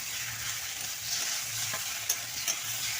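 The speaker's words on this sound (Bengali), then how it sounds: "ভেজে রাখা চাল কুমড়োগুলো ওর মধ্যে দিয়ে দেবে দিয়ে একসঙ্গে নেড়ে নেব" Ash gourd pieces, fried earlier, stirred together with onions in a little hot oil, giving a steady broad sizzle with soft scraping strokes and a couple of sharp clicks near the end, with no voices.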